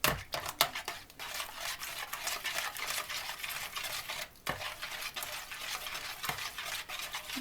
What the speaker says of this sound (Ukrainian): посолить трошки і перемішати. Гарненько перемішать.